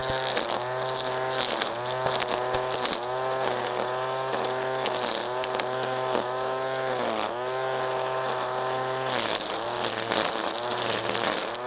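Webb ECO 20V cordless battery line trimmer running at close range, a loud continuous high whine that dips and rises in pitch as the line meets the lawn edge, with no talking.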